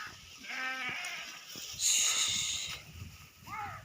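A few grazing sheep bleat in short wavering cries, one early and another near the end, over a steady outdoor hiss and faint background noise.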